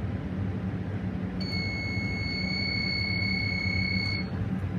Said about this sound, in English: Bit of an annoying alarm there.